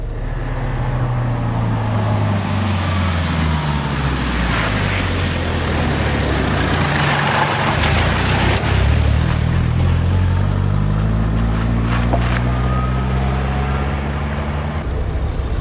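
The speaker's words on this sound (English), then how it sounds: "you can hear the turbocharger whine as it increases and builds" A 1986 Range Rover Turbo D accelerates with its diesel engine droning steadily, rising harmonic sweeps showing the turbocharger whine building as revs climb through the gears, loud and continuous with no talk.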